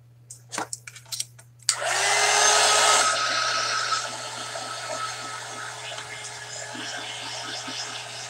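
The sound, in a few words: dryer drying ink and gesso on Christmas ornament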